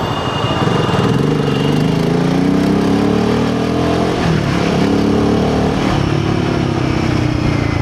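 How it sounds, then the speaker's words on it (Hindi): Royal Enfield Himalayan 450 motorcycle fitted with a Fuel X Pro Plus unit and decat pipe, its single-cylinder engine running steadily loud and close with a continuous exhaust drone and slight rises and dips in revs, no voices. "इंजन का एग्जॉस्ट साउंड आता रहेगा बाइक का"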